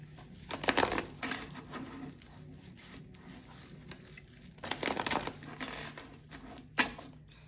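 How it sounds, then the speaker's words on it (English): Close, quiet riffling of tarot cards being shuffled in several short bursts with soft pauses between them, no voices. "let me just shuffle real quick"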